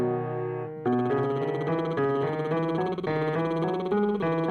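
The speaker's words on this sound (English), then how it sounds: "We can start with a lip trill." A lip trill vocal exercise, a buzzing voiced tone with fluttering lips gliding through a pitch run, close and steady, heard alone after a brief quieter start.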